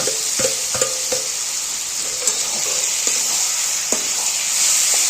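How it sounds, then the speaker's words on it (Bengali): Half-boiled bottle gourd added to spiced potatoes frying in oil, giving a steady sizzle with a few sharp clicks and scrapes of stirring, close and unbroken by speech. "তো আমি এবার এর মধ্যে এই যে হাফ সেদ্ধ করা লাউটা দিয়ে দিলাম।"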